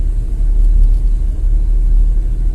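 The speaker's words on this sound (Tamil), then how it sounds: "இப்போ நான் ஒன்லி ஆக்சிலேட்டர் மட்டும் தான் பிரஸ் பண்றேன்." A car engine rumbles steadily with the accelerator pressed while the car climbs a slope, a continuous low drone that stays loud and close throughout with no voices.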